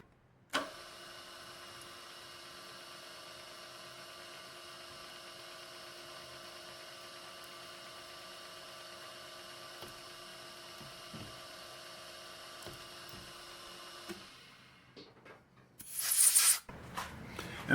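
A single-flute D-bit countersink cuts holes in a machined assembly fixture, giving a steady whining hum with a tonal ring that runs unbroken for about fourteen seconds. Clatter and a short burst of noise follow.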